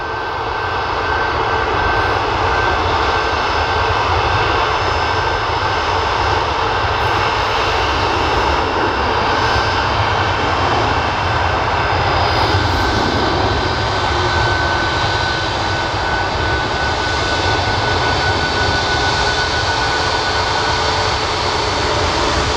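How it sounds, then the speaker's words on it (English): Steady, loud roar of Boeing 737 MAX jet engines spooling and running continuously at an airport, a broad rumbling drone with a high whine on top, with no voices. "By the sounds of the engines, it's probably a Max"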